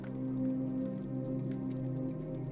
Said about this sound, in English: Rain begins to fall and taps against the windows in a staccato patter